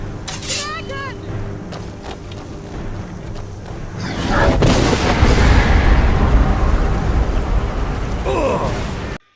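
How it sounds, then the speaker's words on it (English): A dragon attacks in the video game Skyrim with a loud, sustained roar of booming, crashing noise that swells from about the midpoint and holds to the end, following quieter game ambience with faint voices. "Such an iconic moment when you see a dragon for the first time in Skyrim"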